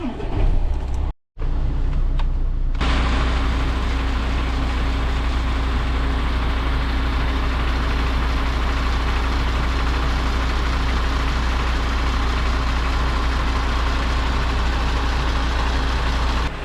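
An HGV truck engine idling steadily with a deep low rumble, continuous and close, as the middle axle suspension raises; a brief drop near the start, no talk.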